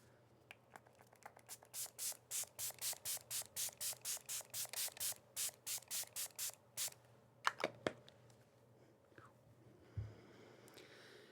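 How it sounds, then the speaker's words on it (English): A Milani setting spray mists onto a face in about two dozen quick, evenly paced hissing pumps, close and soft, followed by a few scattered rustles and taps. "It's a very fine mist, so that's nice."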